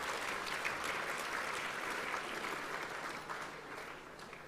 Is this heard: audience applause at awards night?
yes